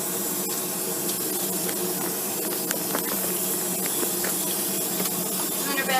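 A handheld water sprayer rinsing soap off a puppy during grooming, a steady, close hiss of spray running continuously with faint splashing texture and no talking.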